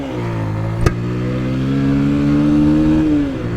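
A Bajaj Pulsar motorcycle accelerates hard in third gear, its engine drone climbing in pitch, briefly easing near the end as the revs shift, with one sharp click early on.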